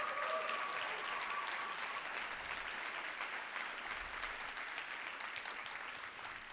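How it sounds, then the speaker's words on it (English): Sustained applause from a forum audience in a large room, a dense and even clapping that holds steady at full strength and fades only slightly toward the end. "please give them a round of applause."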